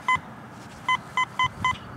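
A metal detector sounds over a possible silver coin at the edge of an old house property: one short electronic tone, then four more quick repeated chirps, crisp and close over faint outdoor background noise.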